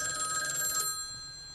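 A telephone in a video game rings with a bright electronic trill that sounds once and then stops, leaving quiet background.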